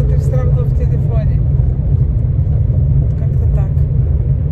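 Steady low engine rumble and road hum from inside a car creeping through a traffic jam, continuous and fairly loud throughout, with a few faint voices in the background.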